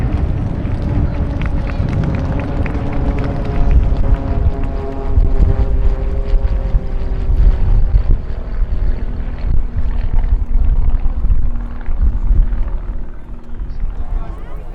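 Birmingham University Air Squadron aircraft flying at the 2017 RAF Cosford airshow, a loud, steady propeller engine drone with slowly shifting tones that swells and eases over the whole stretch, with open-air crowd noise beneath.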